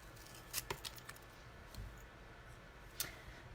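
Scissors snipping out card pieces for a handmade stamped greeting card: a few quiet, sharp cuts in short bursts near the start and another near the end, close up in a hushed room.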